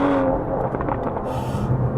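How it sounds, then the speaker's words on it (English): Exhaust pops and crackles come from an Aston Martin DBS Superleggera's engine on overrun while it shifts down through the gears, as a short burst of rough, close engine noise. "you can hear the engine working, dialing back through the gears. It's popping, it's cracking."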